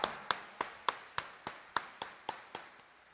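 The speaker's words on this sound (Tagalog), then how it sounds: "Taas ang kamay at pumalakpak ng mas malakas" Crisp claps in strict unison from a Filipino Catholic congregation praising Jesus Nazareno during a homily, about eleven evenly spaced beats at a quick steady tempo, quiet and distant with no talk over them.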